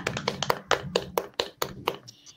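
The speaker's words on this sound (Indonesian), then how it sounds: "kita berikan aplaus dulu untuk Asri dari kelompok 2" Students in a classroom give applause, a short run of sharp, uneven claps from a small group, spaced irregularly and fairly close, thinning out at the end.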